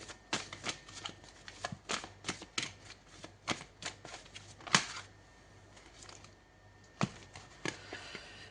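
Tarot cards are shuffled by hand in a steady run of soft, close riffling taps and flutters, with a faint low hum underneath.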